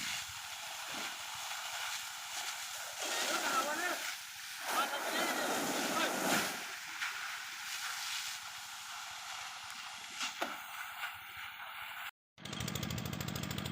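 A water hose sprays the edge of a white shrimp pond being cleaned and prepared, a steady loud rushing hiss with a few brief dips and one abrupt cut near the end, and a voice talking faintly underneath.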